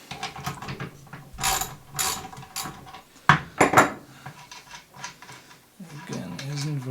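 A locking 13mm nut being undone on an Einhell cordless table saw, with metallic ratcheting clicks and clinks of the tool and blade parts, close and uneven, and some loud handling knocks partway through.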